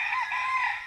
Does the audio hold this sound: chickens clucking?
yes